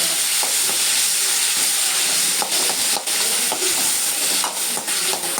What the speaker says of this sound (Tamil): சின்ன வெங்காயம் ஒரு 15 வெங்காயம். அதை எண்ணெயிலே வதக்க போகிறோம்.